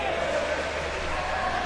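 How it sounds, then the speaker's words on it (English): A football stadium crowd at a Bundesliga match roars in a steady, dense wall of sound, with no single voice standing out. "We heard the crowd."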